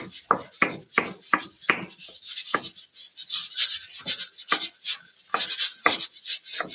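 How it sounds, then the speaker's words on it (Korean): A knife slices halved vegetables into half-moon pieces on a cutting board in a cooking class, with a quick run of crisp, close chopping strokes in a steady rhythm, a brief pause, then more cuts and no talking. "반달 썰기로 이렇게 썰어주세요."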